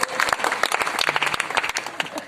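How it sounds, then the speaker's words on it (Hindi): An audience at a motivational talk bursts into applause, loud overlapping claps with sharp individual hand strikes audible throughout, sustained without pause. "एक बात तालियां बजाइए।"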